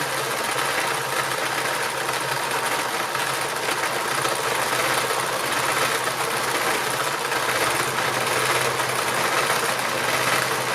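A sewing machine runs steadily while doing free machine embroidery, giving a loud, close, unbroken motor whir with fast stitching vibration throughout and no voices.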